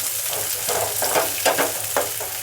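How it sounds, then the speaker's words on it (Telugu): Chopped onions and green chillies frying in oil in a pan, a soft steady sizzle broken by a few scraping stirs, close and fairly quiet with no talking. "ఉల్లిపాయలు ఫ్రై అయ్యేదాకా ఉల్లిపాయలు పచ్చిమిరపకాయలు ఫ్రై అయినాయి కదా"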